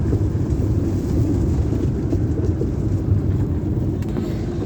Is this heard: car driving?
yes